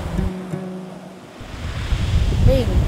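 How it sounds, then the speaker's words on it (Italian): Wind blowing over open land near the sea, a steady rushing roar with gusty low rumble that swells toward the end, joined by faint surf. "lo vento che accarezza la terra."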